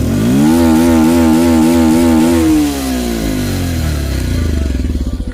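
A motorcycle engine revs loud and close in a steady pulsing throb, then the revs drop and it settles into a lower, rougher idle with no talk over it.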